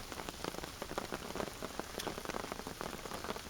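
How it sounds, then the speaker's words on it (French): Steady rain drumming on a tarp shelter at a bushcraft camp, a dense even patter of close drops with occasional louder splats, no voices. "Là, on est sous le tarp. On est à l'abri de la pluie."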